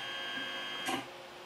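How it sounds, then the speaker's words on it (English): A 3D printer prints a small half-size die, a quiet steady motor hum broken by one short buzzing stepper movement near the end. "I'm printing my half-size die right now."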